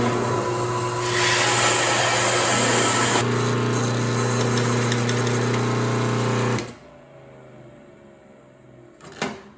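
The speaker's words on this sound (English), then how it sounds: "start the grinder, and then throw the beans that I've measured out into the hopper" A coffee grinder in a batch-brew coffee setup grinds measured beans with a loud, steady whirring buzz for several seconds, rising in pitch partway through, then stops abruptly, leaving a faint hum and a brief clatter.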